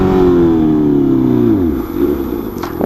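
A Honda CB 650F four-cylinder motorcycle accelerates hard and loudly, its climbing engine note dropping at a gear change and then picking up again.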